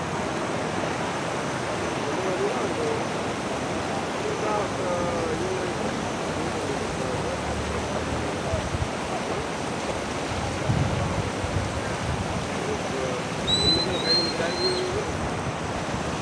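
Floodwater from a night of heavy rain pours across a road bridge in a steady, broadband rush that fills the whole clip at close range, with a few faint bird calls near the end.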